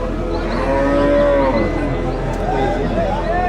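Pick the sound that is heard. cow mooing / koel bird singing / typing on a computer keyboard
cow mooing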